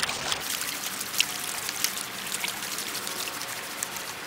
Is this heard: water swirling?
yes